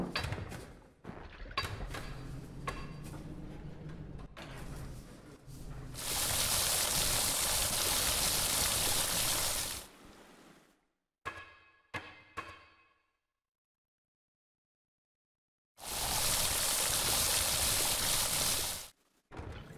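Water pours into a factory machine in a video game, running as a steady broadband gush in two long bursts separated by a near-silent gap, with scattered mechanical clicks and clanks before and between them.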